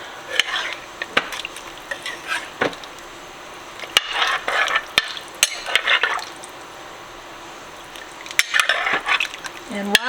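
A spoon stirring powdered gravy mix into meatballs in a crockpot, heard as intermittent bursts of wet scraping and mixing with sharp clinks against the pot between quieter pauses.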